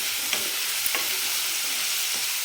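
Chopped onion sautéing on a high flame for egg chutney, giving a steady bright hiss with a few faint stirring taps, close and alone.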